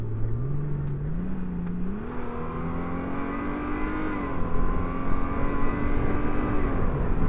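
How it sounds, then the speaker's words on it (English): A Honda Goldwing Tour DCT 50th Anniversary six-cylinder engine wails smoothly while riding on canyon roads, its pitch climbing in steps through the gears, loud and close with wind noise behind it. "I want you to hear the sort of the wailing sound of this 6-cylinder engine"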